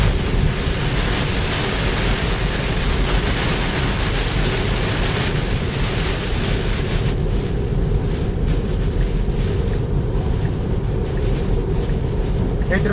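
Heavy rain drums steadily on a Tesla during a road trip about 35 km from the Fátima supercharger in Portugal, a dense continuous roar that stays loud throughout with no talk over it.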